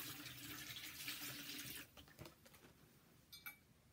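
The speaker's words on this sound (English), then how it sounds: "I'm going to pour the water." Water poured from a container into a basin bowl at a bedside, a steady splashing stream for nearly two seconds, then breaking into a few trickles and drips that fade toward the end.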